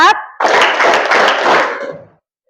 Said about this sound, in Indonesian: Kita main tepuk tangan.